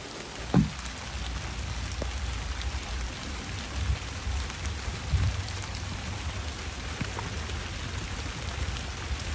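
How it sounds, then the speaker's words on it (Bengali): Steady rain patters during a kayaking trip at Diabari, Uttara, with a faint continuous hiss and a few soft low knocks or splashes, likely the kayak or paddle, and no one talking. "মানে বৃষ্টিতে ভিজছিলাম"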